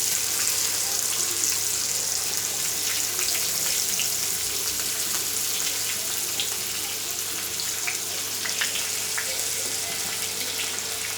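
Asafoetida, finely chopped onion and coriander frying in hot oil for an ivy gourd curry, giving a continuous close sizzle and crackle with no pause.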